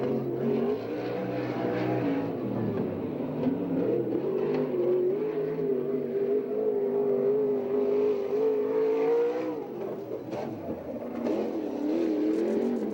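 Open non-wing 410 sprint car engine at Victorville, California, roaring through a single qualifying lap, a loud steady engine note that rises and falls in pitch as the car works around the track, with no talk.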